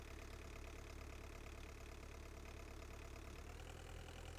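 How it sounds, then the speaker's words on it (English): Engine idling steadily in the Giant Machines 2017 video game, a continuous low rumble with a knocking texture that holds at an even, moderately loud level throughout, with no talk over it. "Let's start the engine."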